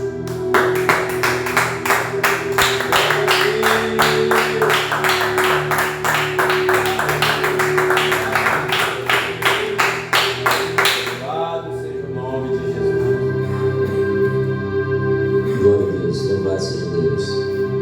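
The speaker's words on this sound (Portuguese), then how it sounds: "vamos dar mais uma salva de palmas para o nosso Deus" A church congregation claps in a steady, rhythmic beat for about eleven seconds, loud and close over sustained musical tones, then the clapping stops and a voice speaks.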